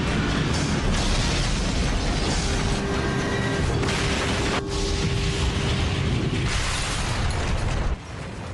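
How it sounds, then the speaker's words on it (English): American Airlines Flight 587, an airliner, slams into the ground in a dramatized crash sequence: a sustained, roaring wall of noise with sudden bursts and a sharp break partway through, loud and dense throughout, no speech. "At 9:16 and 15 seconds, Flight 587 slams into the ground."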